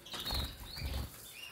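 Caged birds flutter their wings in a soft, continuous rustle with a few stronger flaps, faint and alone with no voices.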